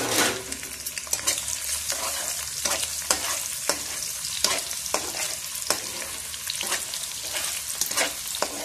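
Shallots, dried shrimp, garlic and ginger fry in hot oil for a pot of eggplant pajeri, giving a steady close sizzle broken by repeated sharp scraping stir strokes, with no talk.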